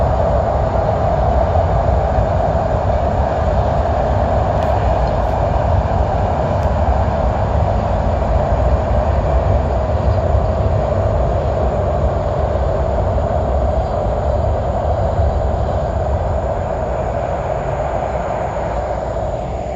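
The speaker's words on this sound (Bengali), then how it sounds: "দূরেই সেই পদ্মা সেতুর নিচ দিয়ে যাচ্ছে ট্রেন" A train rumbles steadily past under the Padma Bridge at Mawa, Bangladesh, a deep continuous roar with a constant hum that holds for the whole stretch, loud and nearby without any voices.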